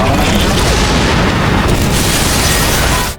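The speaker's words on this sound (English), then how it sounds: "causing the rig to explode." An oil drilling rig explodes in a film scene after a pressure spike, a dense, loud roaring blast that fills the whole moment before cutting off abruptly.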